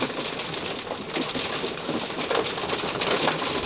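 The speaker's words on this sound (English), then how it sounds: "The next morning, we were woken up by the rhythmic patter of a hailstorm." A hailstorm in winter Iceland, heard as a dense, rapid, rhythmic patter of ice pellets striking a surface, steady and fairly loud throughout with no voices.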